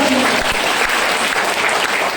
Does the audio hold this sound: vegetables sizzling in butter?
no